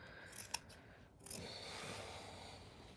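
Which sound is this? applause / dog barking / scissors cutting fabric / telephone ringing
scissors cutting fabric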